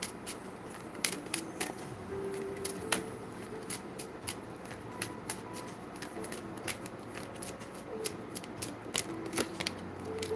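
Tarot cards are drawn and shuffled in quick, papery riffles and flicks, a run of crisp close slaps and ruffles spaced unevenly over a quiet background, fairly soft overall.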